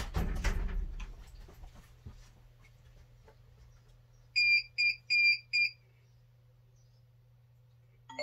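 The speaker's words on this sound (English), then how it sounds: "So you will hear the buzzer first on the DVR and then you will hear a little chime." An alarm on a Spro AI DVR CCTV system triggered by intrusion detection, four loud electronic beeps in quick succession with a steady low hum underneath, and a brief sound of an Android phone at the very end.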